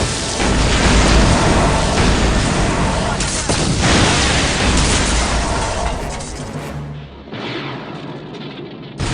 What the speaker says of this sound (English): There has been an explosion at the main behavior core.